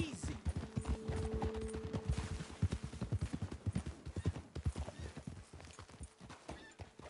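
Horses in Red Dead Redemption 2 clop over the ground in a steady rhythm, close and clear, with a whinny early on and hooves slowing toward the end.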